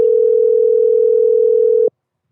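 A steady single-pitch telephone tone plays while a call is being placed, continuous and loud for almost two seconds before cutting off abruptly.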